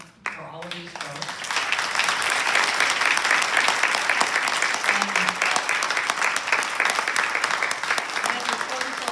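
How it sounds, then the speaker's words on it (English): Warm applause from the audience at an awards celebration, a loud, sustained crowd clapping that swells after a brief spoken lead-in and holds steady throughout. "So let's have a warm round of applause for all of these folks."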